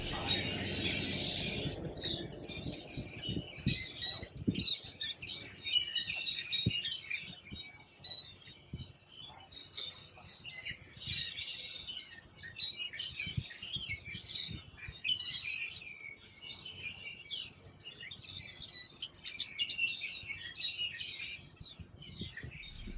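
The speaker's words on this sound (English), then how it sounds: "you got these birds singing like crazy, full of life around this living thing, the plant" Small birds sing in a bush, a busy, continuous chorus of chirps and tweets at moderate distance, with light rustling and occasional soft thumps underneath.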